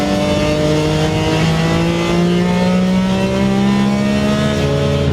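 A BMW Z4 M sports car with the S54 engine from the E46 M3 revs loudly and climbs steadily in pitch, strong and close, with harmonics rising through each gear pull.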